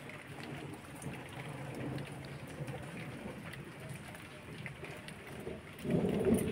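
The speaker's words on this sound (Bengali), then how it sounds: "তো দেখো বাইরে এখনও বৃষ্টি হচ্ছে," Rain falls steadily outside while thunder rumbles low and continuous beneath it, the downpour and rumble growing heavier in the final seconds.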